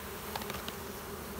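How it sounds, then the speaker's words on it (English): Bees buzz steadily inside a hive box, a brief, dense, continuous drone heard up close. "there's a lot of bees in here to contend with"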